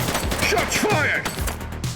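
A short, loud burst of rapid shots from The Precinct police game, a dense clatter of gunfire with a voice briefly calling out over it.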